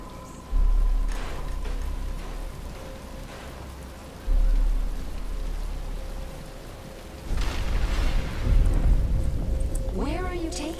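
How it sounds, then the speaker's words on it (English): Rain begins in a Batman: Arkham Asylum cutscene, a steady hiss of falling drops rising under low rumbles, with characters talking over it and a short chirping sound near the end. "But it's starting to rain."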